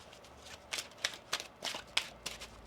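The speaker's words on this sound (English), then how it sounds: "Let's get one more shuffle here for you, Taurus." A deck of tarot cards is shuffled in several quick riffling bursts, each a crisp flutter close to the ear and separated by short pauses, with nothing else around them.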